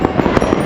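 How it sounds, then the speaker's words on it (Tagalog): New Year fireworks in Australia crackling in a quick rapid burst of several sharp pops, loud and close, with no voices during the burst. "A lot of fireworks 2026!"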